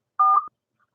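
A single telephone keypad DTMF tone, a short dual-tone beep pressed to pick a phone support menu option, sounds clearly for about a third of a second and is followed by near silence.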